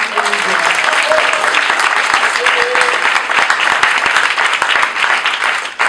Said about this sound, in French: on pourrait peut-être l'applaudir un peu plus fort